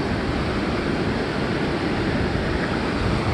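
Ocean waves washing up onto a soft-sand beach: a constant, close rushing wash with wind noise over the microphone, unbroken and fairly loud for the whole stretch.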